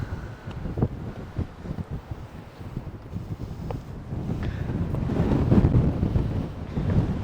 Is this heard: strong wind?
yes